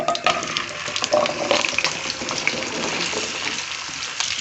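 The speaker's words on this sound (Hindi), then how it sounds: "इसके अंदर हम अरवियाँ डाल के बहुत लाइट सी हमने इसको फ्राई करना है अरवियों को" Taro root (arvi) pieces fry lightly in hot oil with a continuous close, crackling sizzle and some spattering pops, heard alone without speech.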